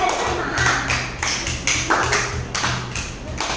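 A group claps for a first-prize winner, a child's painting, at a summer camp celebration on the last day. Several bursts of rhythmic, fairly close hand claps run throughout, with voices faintly underneath.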